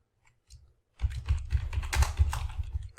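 Rapid keystrokes tapped on a computer keyboard while typing a short call-to-action line, a dense run of clicks beginning after a few faint isolated taps and continuing steadily, close and fairly quiet.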